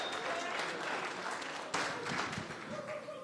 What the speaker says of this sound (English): Dan, big applause, please.